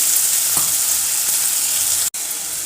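Tomatoes and ginger-garlic paste hitting hot oil in a pan for a prawn pepper fry, a loud, dense, continuous sizzle with one brief break.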